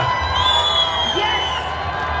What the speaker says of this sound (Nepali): ताली दिनु होला सबैजना